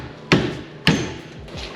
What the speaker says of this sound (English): This one needs to be smacked like with a hammer or something just to get it to keep going.